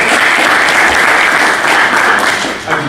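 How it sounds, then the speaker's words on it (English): Loud, close applause from an evening talk audience, a thick continuous clatter of many hands that stays full throughout and eases slightly near the end. "round of applause"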